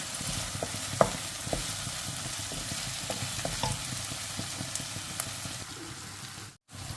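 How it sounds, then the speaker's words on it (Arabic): Minced meat and softened onion fry in a pan, a steady soft sizzle with a few light stirring clicks and knocks, close and fairly quiet, with no talk. "بعد ما نبان البصل كيما تشوفوا هكذا، دوك نضيف عليه البولي هاشي."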